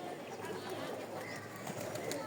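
Pigeons coming down to land, cooing faintly and low under a steady wash of outdoor background noise.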